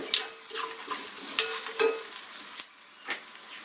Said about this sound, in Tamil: 2 ஸ்பூன் ஜீரகம், இது பாதி வதங்கும் பொழுதே நம்ம ஒரே ஒரு சேப்பு மிளகாய் எடுத்து வச்சதையும் போட்டுக்கலாம்.